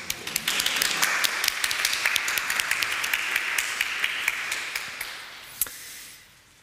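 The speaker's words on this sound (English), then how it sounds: "Can we give him a round of applause?" A church congregation claps in applause after a Sunday service prayer, a dense, steady patter of many hands that fades out toward the end.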